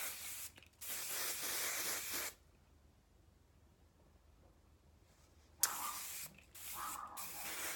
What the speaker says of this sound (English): Oh, and this is my favorite hairspray,